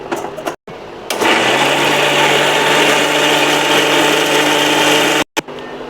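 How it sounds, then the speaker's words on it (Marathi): A kitchen mixer grinder whirs loudly and steadily, grinding roasted coconut and onion into a paste, starting with short bursts, then running as one continuous high whine before cutting off briefly and restarting near the end. "आता आपण याला वाटून घेऊया मिक्सरमध्ये."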